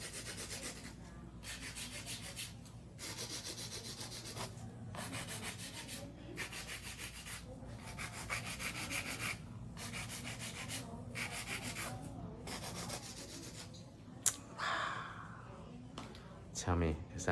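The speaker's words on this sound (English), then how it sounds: "Equal amount of strokes on each side so that I don't run into the issue of over filing." A nail file scrapes acrylic nails in steady back-and-forth strokes, each rasping burst separated by short pauses, close and continuous, with a brief knock and handling noise near the end.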